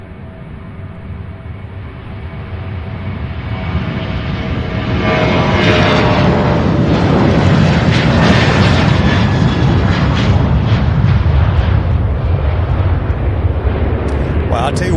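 A Southwest Boeing 737 takes off for Las Vegas at Louisville International Airport with a loud, broad engine rumble that swells over the first few seconds and then holds steady and powerful. There is no talk.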